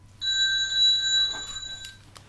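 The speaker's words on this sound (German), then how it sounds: "Das Telefon klingelt," A telephone rings with a bright electronic tone that holds steady for about two seconds, fairly loud and close, with no talking over it.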